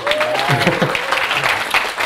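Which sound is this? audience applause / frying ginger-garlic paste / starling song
audience applause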